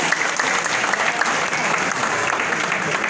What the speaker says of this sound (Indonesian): Tepuk tangan untuk Forkom Relawan Anies.